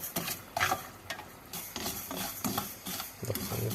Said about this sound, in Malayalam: അത് കഴിയുമ്പോൾ നമ്മൾ ഇതും കൂടി എന്നിട്ട് കുറച്ചൊന്ന് വറുത്തെടുക്കും കേട്ടോ